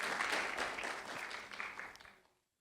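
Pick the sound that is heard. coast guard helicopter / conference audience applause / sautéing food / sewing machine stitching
conference audience applause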